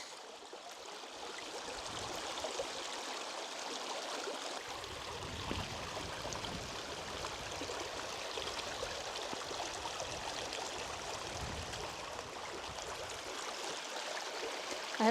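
The River Avon on Dartmoor rushes steadily over stones beside a stone clapper bridge, a constant broadband wash of flowing water heard alone, with no voices.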